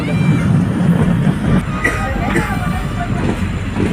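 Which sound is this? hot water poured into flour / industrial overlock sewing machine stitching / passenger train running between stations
passenger train running between stations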